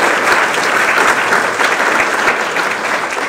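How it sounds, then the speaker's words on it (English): Steady, dense clapping from an audience at a youth forum, a sustained round of applause for the young speakers lasting throughout without pause. "give one more round of applause to our youth speakers"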